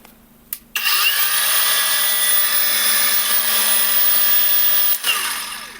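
A Procraft Industrial AG125C cordless angle grinder on a Grosser 6 Ah battery switches on with a sharp start, whines steadily at high speed for about four seconds, then winds down as it is released.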